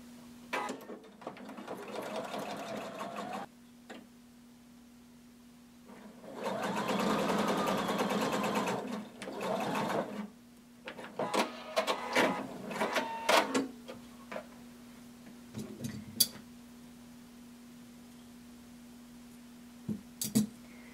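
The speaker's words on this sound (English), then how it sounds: "Pin and then sew across using 5/8 of an inch seam allowance" A sewing machine stitches a 5/8-inch seam on a hooded tunic in fast bursts of rapid whirring, one long run in the middle, with short stops and starts between, close and clear, no voices.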